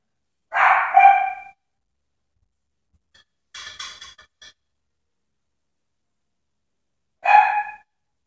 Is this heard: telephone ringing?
no